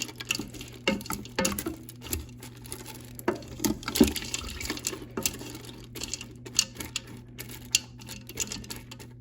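Pasta gets stirred with added water inside a Ninja Foodi Deluxe pot while ham stroganoff is cooked, giving close, irregular wet clacks and sloshing scrapes against a steady low appliance hum.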